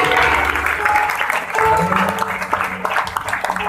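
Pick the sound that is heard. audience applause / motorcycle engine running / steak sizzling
audience applause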